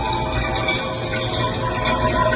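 Filtered water running from a dispenser, a steady dense hiss and splash of flowing water, close and constant throughout with no talk.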